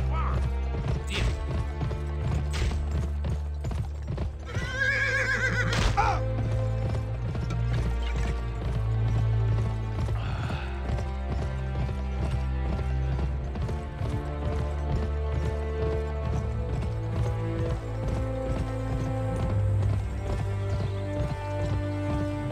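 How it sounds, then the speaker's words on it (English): Horse hooves clop in a steady rhythm over a game soundtrack in Gun (PlayStation 2, 2005), with a horse whinnying once partway through. "Try the horse in the barn."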